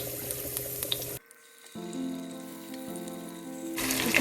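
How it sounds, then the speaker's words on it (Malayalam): Large pieces of fish frying in a pan of oil for a simple home fish curry, a loud broadband sizzle that drops away briefly in the middle and then swells back near the end. "ബാക്കി ഉണ്ടായിരുന്ന മീൻ നമുക്ക് വറുക്കാം"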